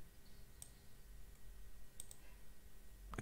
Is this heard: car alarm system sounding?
no